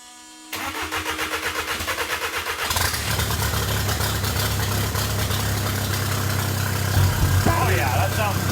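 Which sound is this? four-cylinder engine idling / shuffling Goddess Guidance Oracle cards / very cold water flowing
four-cylinder engine idling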